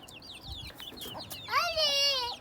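A hen clucks in short bursts in a village chicken yard, ending in a longer drawn-out call, with faint voices in the background.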